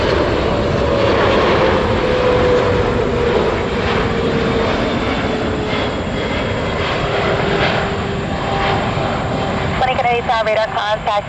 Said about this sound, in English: heavy jets inbound from the southwest, will be descending overhead